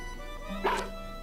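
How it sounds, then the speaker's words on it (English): A short synthesized dog bark sounds once at close range from the video game Mother 3, over a steady game music background. "Hey, Boney. Hey. Woof woof."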